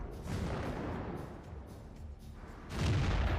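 Gunfire and heavy weapons in combat as Ukrainian forces engage a retreating armored column of tanks and APCs; a dense, rumbling barrage persists throughout and swells louder toward the end.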